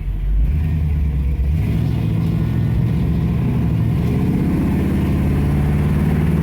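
A 1981 Pontiac Trans Am engine drones steadily, its pitch rising with acceleration and then stepping down as the transmission shifts, loud and continuous throughout.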